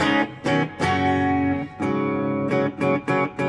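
A clean electric guitar plays short strummed chords and ringing notes through a BOSS ME-70 into a Marshall MG100FX amplifier, with sharp attacks, brief gaps between phrases and a slight effected shimmer.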